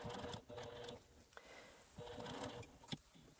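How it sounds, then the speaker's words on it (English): A sewing machine stitches through knapsack fabric close to the bag's edge, a faint steady mechanical whirring run in short bursts with small pauses between them. "I start sewing, again, 1/4 of an inch away from the edge of the bag"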